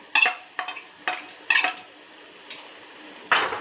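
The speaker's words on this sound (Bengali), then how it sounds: "এখানে আমি বড় চামচে 2 চামচ মতো দই নিয়েছি, এটা আবার মধ্যে মিশিয়ে দেবো" A large spoon scrapes and clinks against a pot as two spoonfuls of yogurt are stirred into palak paneer gravy, in several short bursts separated by brief pauses, fairly close.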